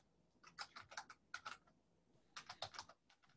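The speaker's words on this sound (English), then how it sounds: "Are you typing something?" Fingers type on a computer keyboard in quick, irregular clusters of crisp clicks, two bursts separated by a short pause, fairly close and alone.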